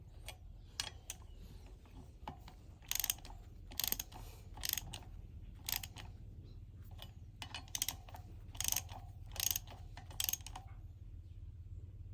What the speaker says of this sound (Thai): ทำการอัดน็อตเข้าไปนะพี่